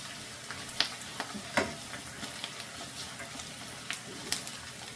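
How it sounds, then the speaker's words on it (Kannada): Turmeric and grated coconut are stirred into rice in a hot pan for tomato chitranna. A soft sizzle runs throughout, with repeated light spoon scrapes and taps up close and no voices. "ಸ್ವಲ್ಪ ಅರಿಶಿನ, ಸ್ವಲ್ಪ ಕಾಯಿ ತುರಿ ಇದು ಇಷ್ಟು ಹಾಕ್ಕೊಂಡು ಮಿಕ್ಸ್ ಮಾಡ್ಕೊಂಡು"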